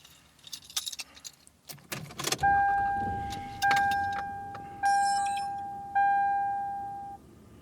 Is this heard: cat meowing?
no